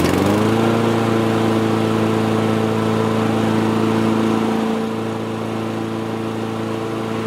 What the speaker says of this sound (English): Let's start the engine up.